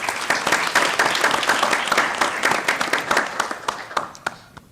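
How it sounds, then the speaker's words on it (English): An audience at a university alumni panel event gives a lively round of applause, dense clapping with sharp individual claps standing out, steady for several seconds and then tapering off near the end. "Please, a round of applause"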